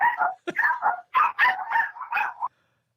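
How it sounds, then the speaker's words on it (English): Several dogs bark excitedly up close in a quick run of sharp, yelping barks lasting a couple of seconds, then silence. "Those dogs are into it."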